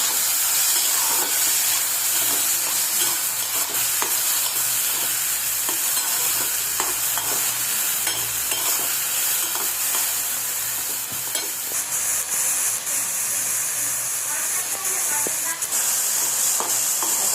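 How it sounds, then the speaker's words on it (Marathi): Vegetables sautéing in a pan with salt for a paneer veg roll filling, a steady loud sizzle and hiss running throughout with occasional scraping stirs, no talking. "हे जरासं परतून घ्यायचं आहे जास्त नाही"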